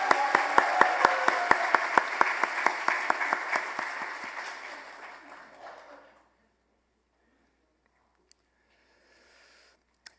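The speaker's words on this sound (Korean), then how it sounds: "한 번 더 우리 큰 박수로 격려하겠습니다." Congregation clapping together in a church during a Sunday service, a loud steady round of rhythmic applause for about five seconds that thins and fades out into near silence.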